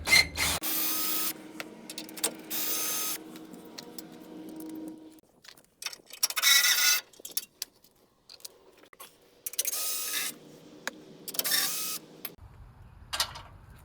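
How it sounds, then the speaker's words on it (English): Power driver spinning out 14 mm bolts from the bumper reinforcement bar on a third-generation Toyota 4Runner, in several loud bursts of whirring and ratcheting separated by pauses, with small metallic clinks between runs. "So I'll use my 3H driver and remove the bolts."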